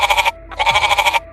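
A goat in a narrated Hindi folk tale about a king and a goat-seller bleats twice in quick succession, loud and close, each call a trembling, quavering cry with a short gap between them.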